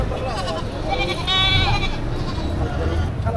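Two goats for sale at a livestock market; a goat bleats in a wavering, drawn-out cry over steady background noise and muffled voices.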